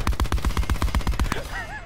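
Rapid automatic gunfire from a Black Ops 4 multiplayer match, a loud, close burst of about a dozen evenly spaced shots, followed by short electronic game tones as the firing stops.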